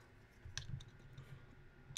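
Mac keycaps being fitted onto a mechanical keyboard give a few faint, sharp plastic clicks, one near the middle and another at the end, over quiet room noise.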